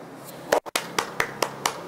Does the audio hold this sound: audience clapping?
yes